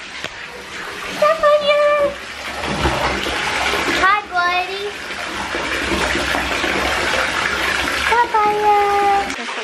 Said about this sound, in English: I'm getting him in the bath